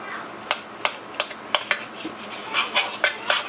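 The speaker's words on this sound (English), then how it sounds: "we're going to slice our steak against the grain" A sharpened knife slicing steak against the grain on a board makes scattered light clicks and scrapes of irregular spacing, close and moderately loud over a quiet kitchen background.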